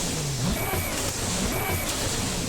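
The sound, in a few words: car turbo sound in the No Hesi video game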